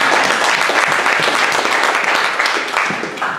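Audience applause closing a talk about a lab-testing service, dense sustained clapping from a room of people, loud and steady before tapering slightly at the end.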